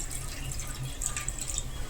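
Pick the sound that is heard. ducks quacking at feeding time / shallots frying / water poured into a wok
water poured into a wok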